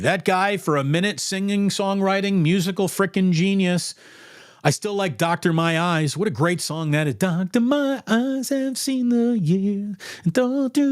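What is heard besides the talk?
No everyday noise stands out behind the speech.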